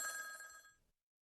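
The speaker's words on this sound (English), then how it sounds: "the telephone rang" A telephone bell rings once in a short burst aboard a houseboat, clear and close, fading out after under a second.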